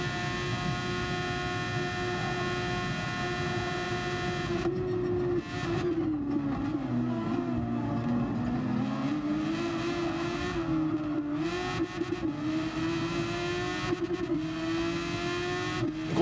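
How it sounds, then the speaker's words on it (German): A Super Formula race car in Gran Turismo Sport drives with a steady, loud engine drone whose pitch dips and climbs as it accelerates and eases off, continuous throughout with no talk. "Aber jetzt vorher möchte ich jetzt erstmal ein bisschen mit dem Super Formula Wagen ein bisschen umherfahren."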